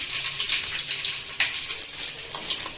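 Mustard seeds, onion and fennel seeds frying in hot oil for a fish gravy, giving a continuous close crackling sizzle with small pops throughout and no voices.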